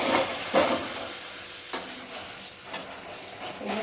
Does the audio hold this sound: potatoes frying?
yes